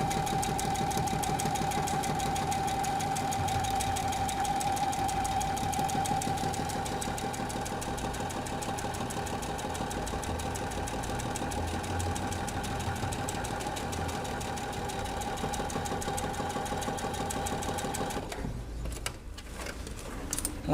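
A sewing machine runs a straight seam through Christmas-wall-hanging fabric with a steady, fast mechanical chatter and whirring hum that holds evenly for most of the run, then stops near the end with a few clicks.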